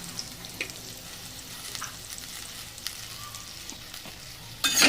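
Bitter gourd pieces sprinkled with a pinch of salt sizzle softly in a pan, with scattered light stirring scrapes and clicks, then a louder burst of sizzling at the end.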